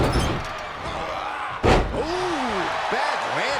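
A wrestler crashes down hard in the WWE 2K22 video game, a single sharp slam near the middle, loud against steady crowd roar, with commentary voices talking before and after.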